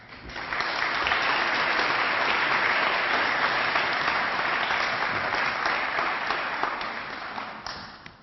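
Sustained, dense applause from a conference audience welcoming a speaker at a business forum, rising quickly to a steady full roar and tapering slightly at the end.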